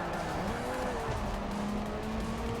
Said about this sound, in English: I can really kind of fling the car into these turns.